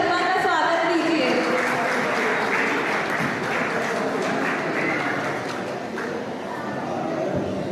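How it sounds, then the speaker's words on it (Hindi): Loud, sustained applause from a crowd welcoming Shri Rajesh Sharma at a Maheshwari community Mahesh Navami celebration, filling the whole stretch with dense clapping and some voices in the background. "जोरदार तालियों से श्री राजेश जी शर्मा का स्वागत कीजिए।"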